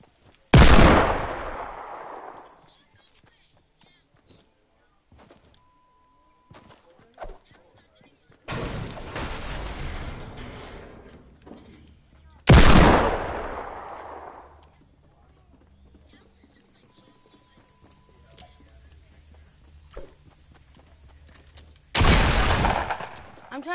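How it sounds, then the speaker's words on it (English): Fortnite new pistol fired in bursts, three loud close shots each trailing into a ringing decay, separated by quieter stretches of game ambience and faint background noise. "I got the new pistol"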